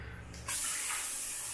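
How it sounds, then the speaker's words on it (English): A black bidet sprays water at full pressure, opening with a sudden hissing onset after a quiet moment and then holding a steady, bright spray rush that stays constant to the end. "Alright, so the next thing to the bidet. Of course, we got it in black color. I can show you guys the strength of the water."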